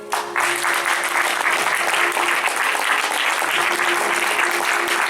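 A crowd at a teen cabaret show in Chanteloup claps loudly and continuously, the applause starting sharply and holding at a steady level to the end.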